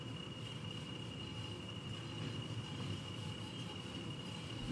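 A locomotive running light engine downhill in a train simulator gives a steady rolling rumble of wheels on track with a faint constant whine, continuous and fairly quiet.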